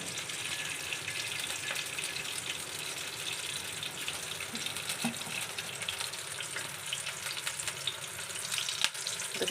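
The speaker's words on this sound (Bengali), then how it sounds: "এখন আমরা বাগার দিয়ে দিব।" Hot oil sizzling steadily as a baghar tempering with whole cumin and dried chillies is added to a beef trotter and tamarind khatta dish, a continuous close frying hiss without speech.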